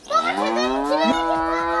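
One cow moos loudly and near, a long bellowing call that rises then holds steady for nearly two seconds, with no voices over it.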